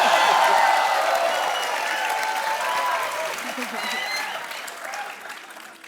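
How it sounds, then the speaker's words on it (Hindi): Sustained applause from a television comedy show studio audience, steady and dense for several seconds before thinning slightly toward the end, with some voices mixed in. "तालियां।"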